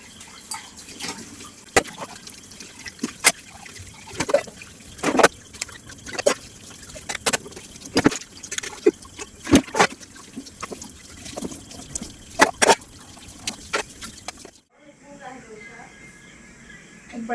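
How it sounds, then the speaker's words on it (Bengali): Running water splashes and trickles while dishes are washed in a home kitchen, with irregular clatters and splashes throughout before the flow stops near the end. "বাকি যে বাসন কটা আছে সেগুলোকে একটু চটপট করে ধুয়ে নিই"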